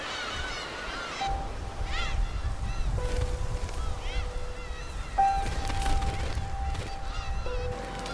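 Black-tailed gulls on Dokdo defending their chicks, several loud, harsh calls and wailing mews overlapping close by, with sustained cries rising and falling over several seconds against a windy background.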